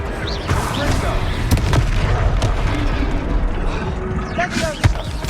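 Confringo blast spells exploding in the Hogwarts Legacy video game, repeated booming bursts and crackling impacts amid loud combat noise, with a voice shouting spell names over them.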